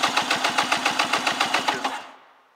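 A 1999 Polaris X45 1200 carbureted engine cranks on the starter for a compression test, making a rapid, even chugging of about a dozen strokes before winding down and stopping.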